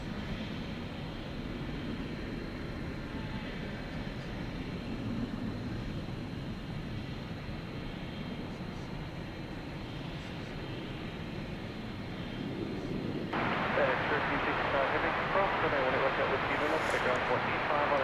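Jet airliner taxiing slowly across the airfield at DFW Airport at night, a steady distant engine rumble and whine that swells louder in the final seconds, with a voice talking over it throughout.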